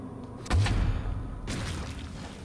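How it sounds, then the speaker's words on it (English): Teapot cannon firing in Alice: Madness Returns: a sharp, deep boom about half a second in, then a second softer shot a second later, over a low game backdrop with no talking. "I use the teapot cannon."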